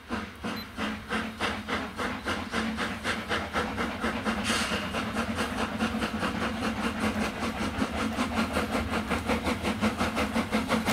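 A narrow-gauge steam locomotive pulls away from Lauterbach station, its exhaust beats coming in a strong, regular chuff that quickens slightly as it gets under way, with a brief hiss of steam partway through.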